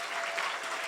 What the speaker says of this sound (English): give a massive, massive round of applause to Iain, the tech